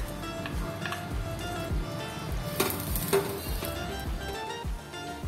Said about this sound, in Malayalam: നമുക്ക് ഗോതമ്പ് ഒന്ന് വറുത്തെടുക്കാം.